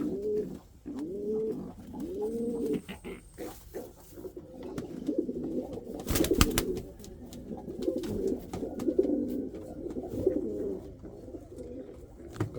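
Pigeons in a breeding loft coo in repeated, rolling phrases close by, one bird after another, with a brief sharp clatter partway through and no talk.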